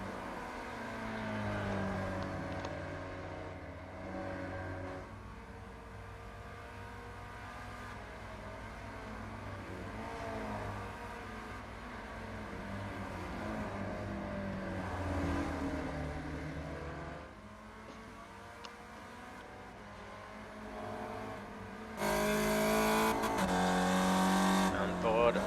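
Spec Racer Ford race cars lapping Tsukuba Circuit in the iRacing simulator, engines droning and revving steadily throughout, with a brief rise in intensity near the end, under continuous race commentary.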